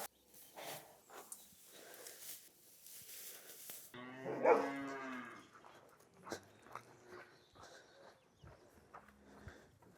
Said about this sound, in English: we have the dogs barking